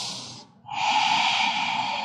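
A deep, forceful breath during a yoga pose: a strong airy exhale that fades, a brief pause, then a loud, sustained hissing inhale close to the ear, with no talking.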